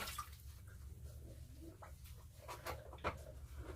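Water is dumped out of an X-ray film processor's reservoir, giving faint, close splashing and dripping with a few soft sloshes and patters over a few seconds.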